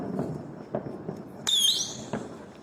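Diwali firecrackers set off outdoors in a village, a few dull pops and thuds followed by one sharp bang with a brief whistling screech, moderately near, with faint background noise and no talk.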